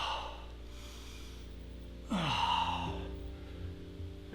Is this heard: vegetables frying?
no